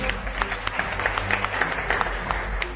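A seated audience at an income and business presentation applauds, with sharp individual claps popping out over a steady bed of crowd clapping at moderate distance.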